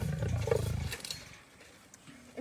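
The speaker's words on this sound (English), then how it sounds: "is a very vocal cat when he eats. But that's a good thing. He's a lion." An elderly captive lion roars loudly while eating at feeding time, a deep, heavy rumbling roar in the first second that fades into quieter low growls and chewing sounds.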